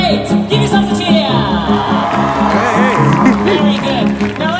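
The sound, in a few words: audience cheering at outdoor theatre event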